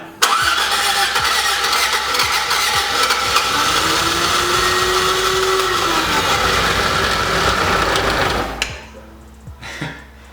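A Toyota AE86 engine cranks and catches, running rough with an uneven, loud idle and a rising whine, then cuts out abruptly before a brief sputter.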